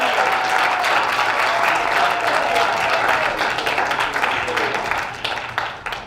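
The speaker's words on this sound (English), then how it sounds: "Round of applause for our honey volunteers today." Audience applause fills a small improv show crowd, steady dense clapping throughout that tapers slightly near the end, with faint voices mixed in.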